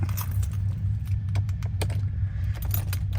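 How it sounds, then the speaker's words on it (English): Metallic clicks and a jangle of keys as a key goes into the dash ignition of a 1979 Porsche 928, over a low steady hum, a few sharp taps spread through the clip. "Key goes into the dash on this car."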